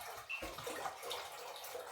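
Filtered water drawn from a park is poured steadily into a container, a continuous close splashing gurgle that runs unbroken for a couple of seconds without any talking.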